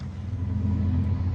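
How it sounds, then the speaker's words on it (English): Steady low rumble of passing road traffic on a Sunday afternoon, a continuous engine drone and tyre hum from nearby cars with no gaps and no talking. "There certainly is a lot of traffic for a Sunday afternoon when everything's closed."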